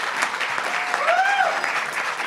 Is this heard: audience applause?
yes